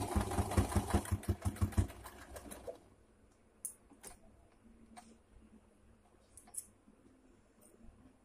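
A sewing machine stitching fabric, running in a rapid rhythmic burst of needle clatter for about three seconds, then stopping, followed by quiet with a few faint clicks and handling sounds.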